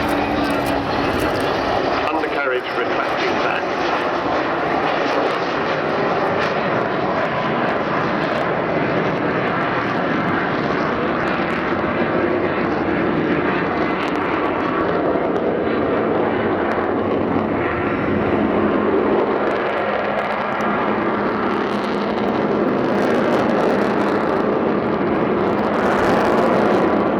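The Avro Vulcan bomber XH558 flies a display at Southport Airshow, a loud, continuous engine roar that swells and shifts as the aircraft passes, with a commentator speaking over the noise.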